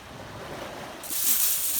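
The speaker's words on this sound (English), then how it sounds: "Beautiful calm seas today." Steady wash of calm surf on a Captiva Island beach with wind rushing across the microphone, swelling louder partway through as a wave breaks nearby.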